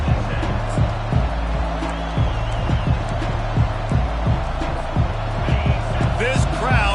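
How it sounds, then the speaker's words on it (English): A roaring stadium crowd at a college football game, a dense, loud and continuous din with thumping beats, whistles and shouts mixed in, while a commentator speaks over it. "This crowd bringing an ear-splitting welcome to their visitors"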